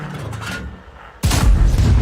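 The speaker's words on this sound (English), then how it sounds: "And we fire an APCR round through him." Tank cannon firing an APCR round in a tank video game: a single loud, sudden boom halfway through, after a quieter rumbling engine bed.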